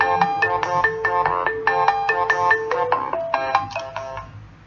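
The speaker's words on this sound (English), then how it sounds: "sorry, that's my phone." A mobile phone sounds its message ringtone: a bright, melodic run of repeating electronic chime notes that plays clearly on its own, with no talking.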